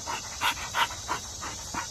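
A female dog pants in quick, rhythmic breaths, about six in two seconds, heard up close over a steady background hiss.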